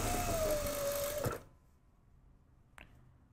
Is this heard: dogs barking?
no